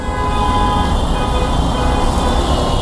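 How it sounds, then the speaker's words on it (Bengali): Road traffic with vehicle horns, including a CNG auto-rickshaw horn, sounding over a dense, continuous rumble of engines on a busy city street. "এটা সিএনজি এর হর্ন ছিল"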